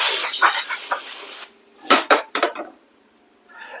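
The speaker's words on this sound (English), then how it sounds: "I'm going to give it one last clean of brake cleaner." Brake cleaner sprays onto the flywheel of a 1968 Moto Guzzi V7 700 motorcycle in close, loud hissing bursts: a long spray, then a pause and several shorter puffs, with a faint hiss returning at the end.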